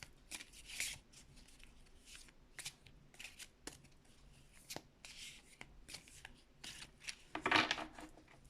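Tarot cards are shuffled by hand in repeated soft riffles and flicks, close and fairly quiet, with brief pauses between bursts and one sharper riffle near the end; no voice is heard.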